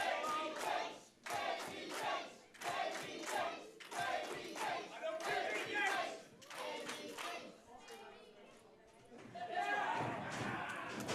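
A sports bar crowd at a live wrestling main event roars and chants in rhythmic bursts, with shouts, some claps and loud surges that rise and fall, fairly distant and somewhat faint.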